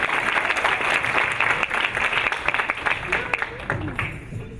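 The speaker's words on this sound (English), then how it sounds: "I think we can give her one more round of applause" Audience applause after a Bharatanatyam dance at an arangetram, dense sustained clapping from a crowd that gradually thins out, with a voice emerging near the end.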